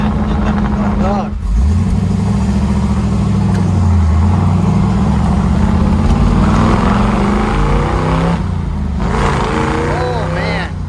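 A 1969 Chevrolet Camaro Z/28 with its original 302 small block V8 revs up loud and close, then launches and pulls hard through rising gears with a brief break between shifts, while people talk over the engine.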